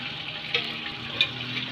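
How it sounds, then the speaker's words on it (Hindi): Onions sizzling in hot oil in a home kitchen while being fried golden brown for a fish curry; a steady broadband hiss of frying with two brief louder crackles, close and continuous, no talking. "मैंने प्याज बड़े लिए, इसको मैं जो है वो फ्राई करूँगी ऑयल में"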